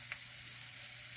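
Sweet potato pieces sizzle steadily in olive oil in a pan for breakfast, a continuous close frying crackle with no talking.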